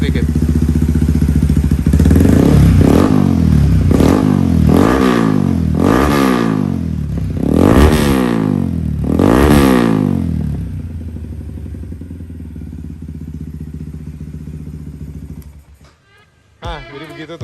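A Yamaha WR155 motorcycle, bored up and fitted with a new exhaust, is revved hard close up in about five rising and falling bursts, then settles back to a loud idle and cuts off near the end.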